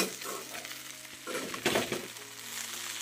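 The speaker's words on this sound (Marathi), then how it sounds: "आणि मग खिचडी फोडणीला घातलेली आहे" Potato khichdi goes into a hot tempering in a pan, giving a loud sizzle and frying hiss with scraping stir sounds. A steady low hum runs underneath and no one speaks.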